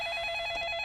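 A telephone line tone connecting an incoming caller to a Korean stock-consultation broadcast, a steady electronic pulsing ring with a faint beeping pattern, close and clear, with no talking.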